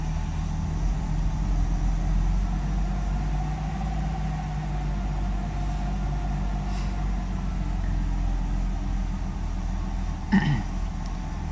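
A Nissan RB25DET engine idles steadily in a car, a low, even droning hum with a faint higher whine, constant and moderately close, with a brief small blip near the end.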